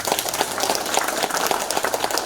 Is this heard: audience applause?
yes